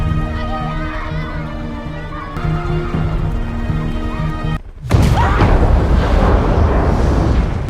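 A huge explosion at a petrol station sets off a sudden loud, dense boom that swells into a sustained roaring rumble. A tonal, music-like layer plays before the blast.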